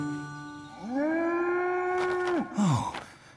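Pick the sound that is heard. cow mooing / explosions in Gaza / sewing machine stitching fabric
cow mooing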